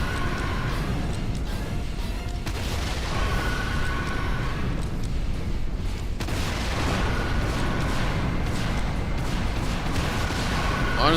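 Rocket launcher fire in Earth Defense Force 2017, a run of heavy booms and blasts thudding in bursts over a dense rumbling battle bed, loud and continuous across the stretch.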